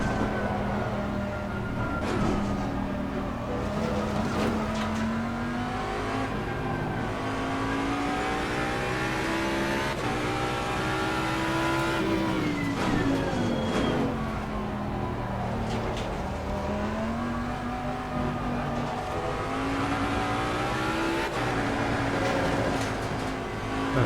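Race car engine in the Assetto Corsa Competizione racing game on a final lap: a steady, loud engine note rising and falling through gear changes and repeated acceleration, with no voices over it.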